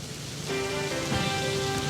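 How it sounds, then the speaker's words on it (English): Heavy rain pours and gushes steadily through a damaged gas station awning during a storm in North Fort Myers, a dense, loud, continuous roar of falling water with no voices. "Rain is gushing out of it."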